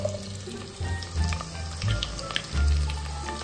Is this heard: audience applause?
no